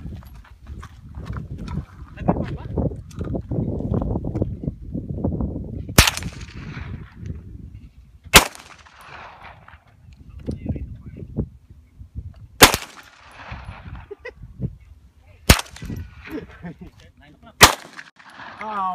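Gunshots fired into a shooting backstop ring out as five sharp, loud cracks spaced a few seconds apart, with low voices and shuffling around them.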